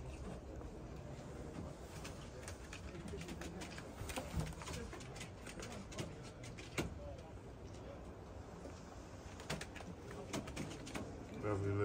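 Racing pigeons cooing softly in a loft, low murmuring calls repeating over scattered clicks and shuffling, with faint background activity throughout.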